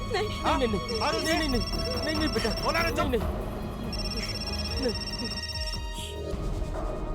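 A phone rings in two long electronic bursts while people talk loudly nearby, the ringing riding above their voices.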